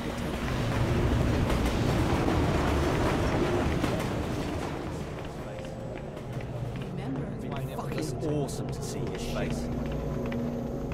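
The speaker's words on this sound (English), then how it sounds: "tram number 4 connecting the main train with the hydroponic plant is arriving at platform number 1" A tram pulls into a platform in the video game Afterfall InSanity, a rolling rumble with rail clatter that eases off over several seconds, while a public-address voice makes an announcement over it.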